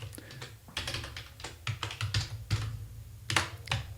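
Computer keyboard typing while writing code in an editor, a close, fairly quiet run of irregular key clacks in short bursts with brief pauses, no talking.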